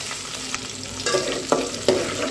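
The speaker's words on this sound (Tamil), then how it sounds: "இதை கொஞ்சம் நேரம் எண்ணெயில் வதக்கிடலாம்." Fenugreek, fennel, onion and garlic sauté in hot oil in a pan, a steady close sizzle broken by a few sharp scraping stirs of a spoon, with no talking.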